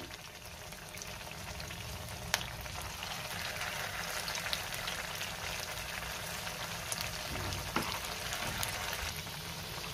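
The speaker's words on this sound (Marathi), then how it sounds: "एका साइडनी छान गोल्डन ब्राउन रंग येईपर्यंत मी ही टिक्की तळून घेणार आहे।" Aloo tikki sizzling steadily in plenty of hot oil in a pan, a constant soft crackle and hiss with occasional sharper pops, no voices over it.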